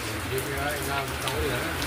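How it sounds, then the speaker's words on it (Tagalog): Steady heavy rain fills the scene with a constant hiss, while a voice talks over it throughout. "Lakas ng ulan."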